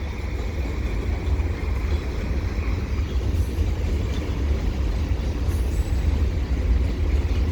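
A CP freight train with stack cars rolls past at a rail ramp, a steady low rumble and rolling wheel noise holding evenly throughout, with faint squeals and no voices.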